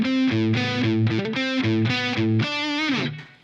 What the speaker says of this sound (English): I'll turn the reverb on just so you can hear the difference that adds in